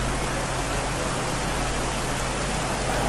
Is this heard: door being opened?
no